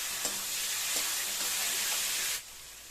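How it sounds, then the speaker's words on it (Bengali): Spice masala for an egg and potato curry frying in a pan, a soft steady sizzle with a few faint scraping stirs of the spoon before the sound drops lower at the end. "এবার এটা ভালো করে কষিয়ে নেবো যাতে মশলার কাঁচা গন্ধ চলে যায়।"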